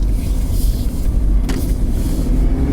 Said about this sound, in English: First gear, get ready, and then creep and off we go.